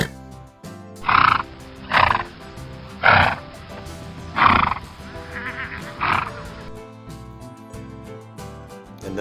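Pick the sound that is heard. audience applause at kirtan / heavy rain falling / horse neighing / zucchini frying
horse neighing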